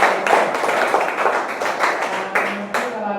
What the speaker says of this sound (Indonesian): Tepuk tangan dulu untuk kelompok yang bagus